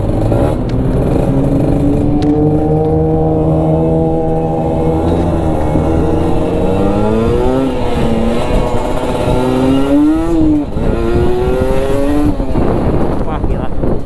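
A Kawasaki Ninja RR two-stroke motorcycle accelerates hard while riding, its buzzy engine note climbing through gears in repeated rising sweeps, loud and close over wind noise.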